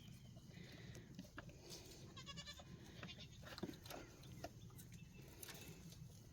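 Goats, including young kids, bleat intermittently while foraging on cut Japanese honeysuckle on a homestead, with repeated short calls over a busy outdoor background of rustling and birdsong.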